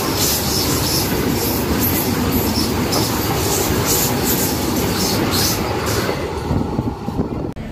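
The Tirupati–Secunderabad Vande Bharat express rushes past close by with a loud, continuous rumble and rattle of wheels that begins to ease only in the final moment.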